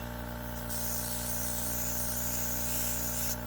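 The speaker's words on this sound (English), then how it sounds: "I'm going to do a little bit of spraying around the area" Paint sprays from a can onto a Tesla wheel to blend a curb rash repair, a continuous close hiss that starts, holds for nearly three seconds and cuts off, over a steady low mechanical hum.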